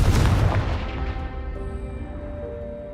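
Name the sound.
Confringo spell explosion from a video game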